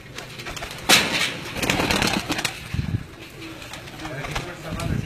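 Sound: pigeons cooing

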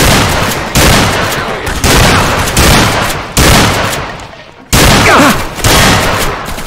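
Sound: gunfire in video game Atlas Uprising

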